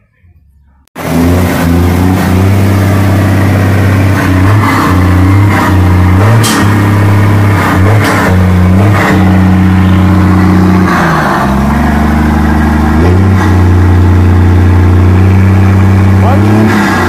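Car engine with a modified exhaust, heard close and loud as it starts, then idles with a deep burble and repeated throttle blips and revs, a steady rumble lasting throughout.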